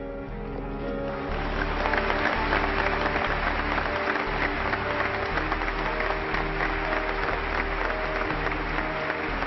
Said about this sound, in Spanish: reaccionó como siempre aplaudiendo al presidente